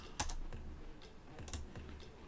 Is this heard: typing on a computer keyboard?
yes